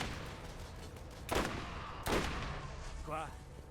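Two sharp gunshot bursts from a video game firearm in Borderlands, a few seconds apart and moderately loud, followed by a short warbling electronic effect, with game ambience underneath.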